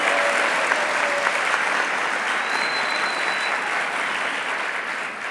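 A studio audience at a Kurdish TV show applauds warmly, a dense, steady clapping that holds for several seconds and fades slightly at the end.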